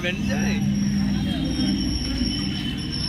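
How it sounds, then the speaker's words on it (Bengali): A train rumbles past close by with steady low roar and a faint high wheel squeal, constant throughout, with people talking over it. "এই ট্রেনটা কোথাকার দেখ না"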